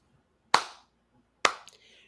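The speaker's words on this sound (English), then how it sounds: "You get a slow clap from me," Two slow, deliberate hand claps roughly a second apart, sharp and close in an otherwise quiet room.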